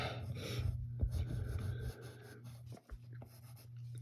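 A pen scratches across paper while drawing a curved line for a cartoon bear's tongue, a close, steady scraping over a constant low hum, with brief pauses between strokes.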